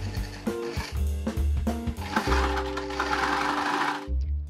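Sewing machine in a home workshop stitching pre-cut fabric into banderitas, small festive flag buntings; a steady, loud motor whir with rapid needle chatter, briefly pausing and restarting, running nearly nonstop before stopping near the end.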